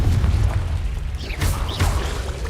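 A Confringo blasting spell explodes inside a cave in Hogwarts Legacy, giving a heavy, rumbling boom with a deep low end and sharp bursts layered over it, sustained loudly across the whole moment.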